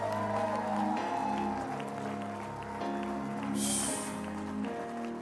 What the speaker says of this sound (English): If you love him, clap those hands